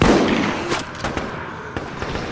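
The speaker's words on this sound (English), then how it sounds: "The shotgun." Shotgun blasts in the Resident Evil Raccoon City co-op game, a series of sharp loud booms at irregular intervals over a dense, noisy background of in-game combat.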